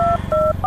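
Three telephone keypad dialing tones, each a steady two-pitch beep of roughly a fifth of a second, pressed in quick succession over a low background hum.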